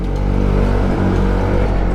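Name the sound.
truck driving on a steep mountain road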